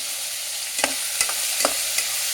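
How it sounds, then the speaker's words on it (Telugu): Onion frying in a pan for Telugu bagara rice, a low constant sizzle broken by several sharp spoon stirs and scrapes against the pan, close and fairly quiet with no voices. "ఇప్పుడు ఉల్లిపాయ వేగాలండి"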